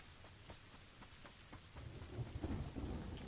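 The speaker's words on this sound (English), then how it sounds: "Raining, lightning coming down." Steady rain patters with a low rumble of thunder rolling in partway through in the video game PUBG, fairly quiet overall with no voices.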